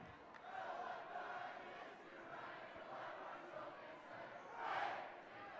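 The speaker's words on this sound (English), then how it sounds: "the Regis crowd is singing Jingle Bells" A basketball crowd at a Regis Jesuit high school boys game sings Jingle Bells, a broad, distant wash of many voices rising and swelling near the end.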